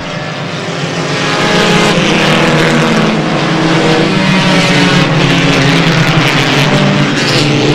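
Pack of dirt-track race cars at a speedway launching at the green flag, engines swelling from a roar to a loud, sustained snarling drone as the field charges past, continuous and close, with no voices.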